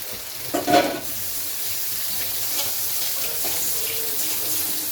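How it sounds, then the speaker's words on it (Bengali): Boiled chow mein hits a pan of vegetables with a sharp burst of sizzling near the start, then settles into a steady, even frying hiss with faint scraping of stirring throughout. "চাউমিনটা আমি সেদ্ধ করে রেখেছিলাম এখন ওই সবজির মধ্যেই দিয়ে দিলাম"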